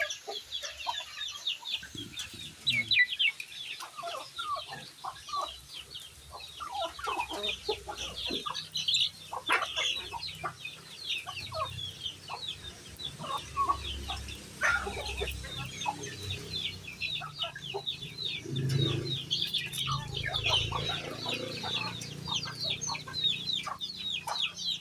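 Chickens and chicks at feeding time on a rainy morning, continuous busy clucking and high peeping, fairly close and moderately loud, with scattered louder calls throughout.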